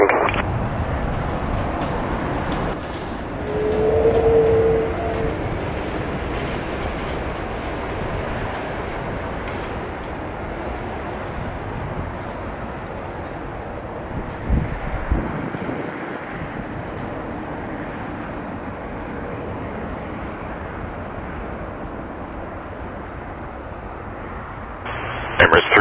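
An Emirates Airbus A380 lands and taxis at Toronto Pearson airport, a long steady roar of engine and rolling noise that holds at a constant level, with a brief swell early on and a few louder knocks near the end.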